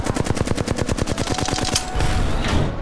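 Rapid automatic gunfire in the video game Apex Legends, a fast regular burst of loud shots lasting under two seconds, followed by a short noisy tail.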